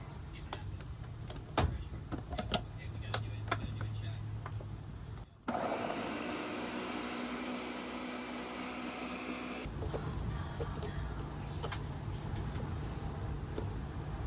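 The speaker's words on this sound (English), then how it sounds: "And then we blend." A blender whirs steadily for about four seconds while it purees hummus with olive oil. Quieter kitchen sounds and talk come before and after it.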